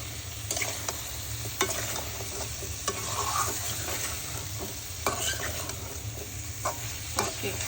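Prawns and taro roots stir-fry with spices in a pan, giving a continuous loud sizzle with repeated scraping stirs throughout, no voices.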